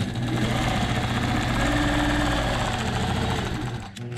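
A sewing machine quilts a large empty area of a memory quilt with a steady, close mechanical hum and rapid needle rhythm that runs nearly continuously before easing off at the end.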